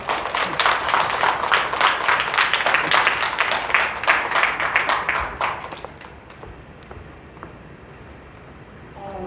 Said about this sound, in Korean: 여러분 뜨거운 박수 다시 한번 부탁드리겠습니다